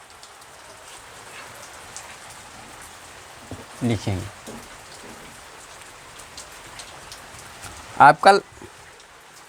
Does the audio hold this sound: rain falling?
yes